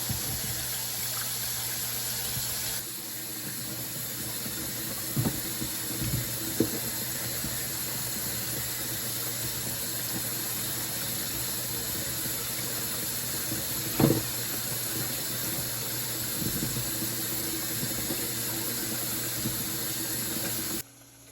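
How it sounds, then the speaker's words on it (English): Steady tap water runs into a sink while meat is rinsed before boiling, a continuous hiss with a few brief clanks and splashes along the way, fairly close and with no talking. "wash your meat off. I don't care if you're gonna cook it or not, wash it off."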